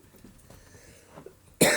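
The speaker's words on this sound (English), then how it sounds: "I'm still trying to get over a cough" A single sharp, loud cough bursts out after a quiet stretch of low background noise, close to the microphone during a trucker's live stream.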